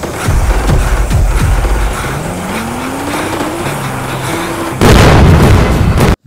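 Bombs blowing up a house in Indian Bike Driving 3D: several heavy thuds and rising game tones, then a loud, broad explosion roar near the end that cuts off abruptly.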